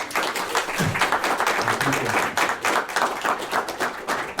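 Seminar audience applauds continuously at close range, a dense, even patter of many hands lasting the whole stretch with no talk over it.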